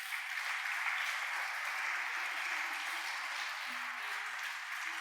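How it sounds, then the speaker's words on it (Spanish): A church congregation applauds steadily, a dense, even wash of many hands clapping at moderate distance that sustains without break, with faint background voices. "¿Cuánto le dan un aplauso al Señor?"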